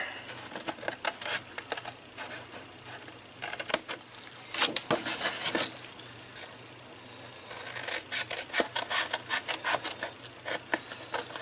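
Scissors snip along score lines through stiff card for a desk organizer gift box, in bursts of short, crisp cuts with pauses between runs; close and fairly clear, no talking.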